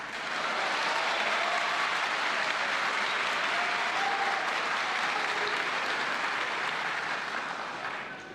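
Sustained applause from a large audience fills a legislative chamber during a presidential speech opening the legislative sessions, dense and loud throughout with a slight fade at the end, no voices standing out.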